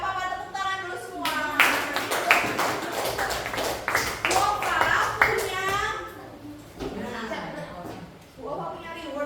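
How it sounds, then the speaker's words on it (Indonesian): Classroom clapping for the winning student groups, with bursts of children's hands clapping unevenly amid chatter and kids' voices, loud and close, fading and returning over several seconds. "tepuk tangan dulu semua"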